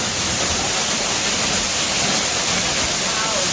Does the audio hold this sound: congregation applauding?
no